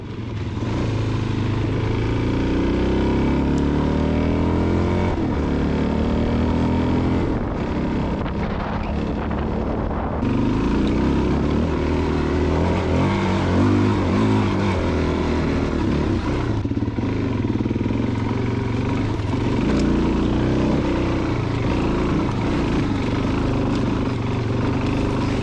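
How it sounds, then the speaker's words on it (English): A Suzuki DRZ-400S motorcycle fitted with a JD jetting kit revs and pulls for a sustained stretch, a loud, throaty single-cylinder drone rising and falling with throttle changes, with some wind noise over the microphone. "The bike definitely sounds a lot more throaty, and it has quite a bit more bottom end,"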